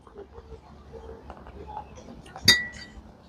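Glasses clink together once in a toast during a meal of fresh beef, a sharp bright ring standing out near the end, with people talking and murmuring before it.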